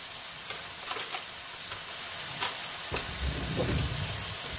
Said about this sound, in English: I'm just trying to get a nice sear on the one side.